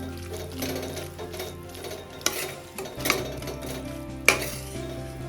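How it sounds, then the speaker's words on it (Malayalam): Mutton biryani cooking in a pot, with stirring, clinking utensils and steady frying sizzle, plus a few sharp metallic knocks against the pan and no talking. "ഇവിടെ ബിരിയാണിയുടെ കുക്കിംഗ് നടന്നുകൊണ്ടേ ഇരിക്കുകയാണ്."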